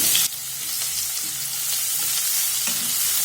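Chopped onions hit a hot pan with a sudden burst of loud sizzling, which settles into a steady close frying hiss with light stirring scrapes.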